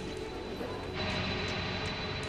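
Aircraft engines throttle up for takeoff from a U.S. base during the evacuation from Vietnam, a dense, steady roar that swells louder about a second in and then holds as a continuous near drone.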